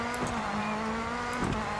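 Rally car engine of a Mitsubishi Space Star R5 in DiRT 4, a steady loud droning hum holding a constant pitch throughout, with two short brighter flutters like shifts or exhaust pops.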